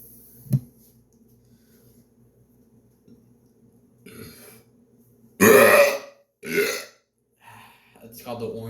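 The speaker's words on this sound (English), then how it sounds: "It's called the orange juice burp." A loud burp after drinking orange juice, one long deep belch after a short earlier gulp-like click, followed by another shorter burp and then people talking close by.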